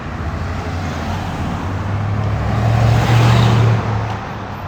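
Traffic rolls through a busy city intersection at Chester and 3rd Street in Little Rock, Arkansas, a steady loud roadway hum swelling as a vehicle passes close by, with no voices.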